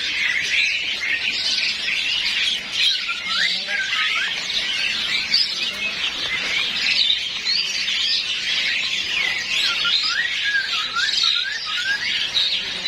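Local zebra doves at a bird market, with a dense, constant chorus of chirping and calling birds that fills the whole stretch at a steady level.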